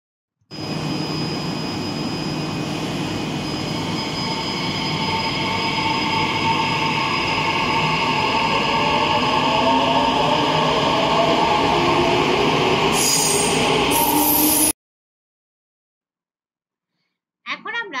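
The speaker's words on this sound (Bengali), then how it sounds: "এটা হচ্ছে পাতাল রেলের ছবি, যাকে ইংরেজিতে বলা হয় মেট্রো।" An underground metro train runs as a steady loud rumble with whining tones and rising pitch sweeps, holding for about fourteen seconds before cutting off abruptly into silence.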